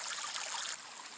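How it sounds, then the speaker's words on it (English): Overflow water from a ram pump pours back into a creek, a steady close trickling splash that drops slightly in level partway through, with no voices. "I was showing you the water going back into the creek from the overflow."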